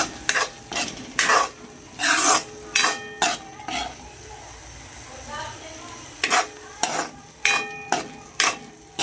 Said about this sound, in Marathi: लाल तिखट घालायचं आणि तेल सुटूसपर्यंत चांगलं भाजून घ्यायचं आहे